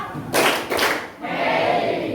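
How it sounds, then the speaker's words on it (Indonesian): A group of children in a classroom claps a crisp two-beat pattern, two loud bursts of hands in quick succession, followed by a murmur of voices. "Tepuk dua"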